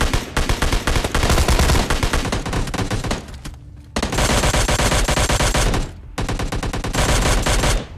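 Rapid automatic gunfire in a shooter video game comes in loud, dense bursts separated by two brief pauses, each burst a close, continuous rattle of shots.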